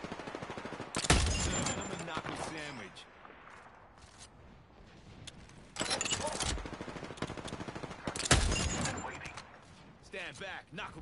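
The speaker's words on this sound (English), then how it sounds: "Knuckle cluster's firing." Heavy weapon fire from the Knuckle Cluster in the video game Apex Legends comes in three loud, close bursts spread several seconds apart, with speech in between.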